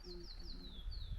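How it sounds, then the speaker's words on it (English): Birds on a mountain trail in Argentina, near a wooden bridge with snow around. Several thin, high chirps repeat in quick descending sweeps against faint background rumble, with no one talking. "Birds chirping."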